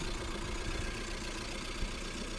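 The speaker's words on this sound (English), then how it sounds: "the engine is sounding fine" A used car's engine idles with a faint, steady low hum and a light even rumble, with no voices over it.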